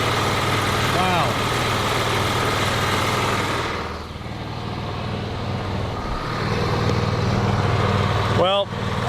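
A Scag lawn mower engine runs steadily at close range with a constant drone, dipping slightly midway, while someone talks over it.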